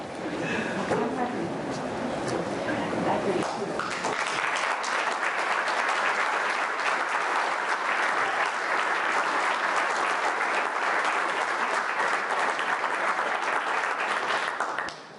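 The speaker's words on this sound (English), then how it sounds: "go ahead and do your applause as we read the names" An audience at an awards and recognition ceremony applauds in a sustained, dense wash of clapping that fills the room, following a voice at a microphone at the start.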